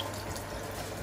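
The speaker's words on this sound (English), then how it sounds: "When you start the cycle, water just runs down the front of the machine." A washing machine with a blocked soap dispenser drawer sump hose leaks at the start of a cycle, water running down the front from the drawer in a brief, steady trickling splash at close range.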